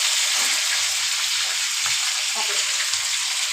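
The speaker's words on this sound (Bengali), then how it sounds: "আমি যে একটু পানিতে দেবো" Chicken pieces browned in onion-fried oil sizzle with a steady, loud hiss, with occasional stirring clinks and scrapes over the constant frying noise.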